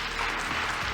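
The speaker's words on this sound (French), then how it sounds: "Est-ce que nous pourrions applaudir pour la gloire de Dieu?" A church congregation at a pastors' gathering in Kinshasa applauding, a brief dense burst of clapping from many hands.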